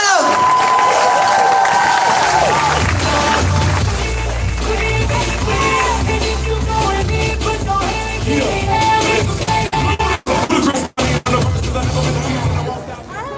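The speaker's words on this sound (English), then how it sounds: "let's give her a round of applause and show her some love" A crowd at an evening solidarity march in Denver applauds and cheers for a speaker, loud and continuous with shouts and babble, then breaks into sharp gaps near the end.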